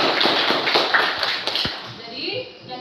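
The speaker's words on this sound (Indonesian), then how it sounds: "tepuk tangan dulu untuk Yuk" A classroom of students claps for a classmate, a dense, close burst of many hands that runs for about two seconds and then thins out and fades.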